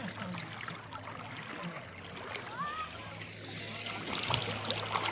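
River water flows and splashes around a kayak, a steady broadband wash with small splashes throughout while people talk over it.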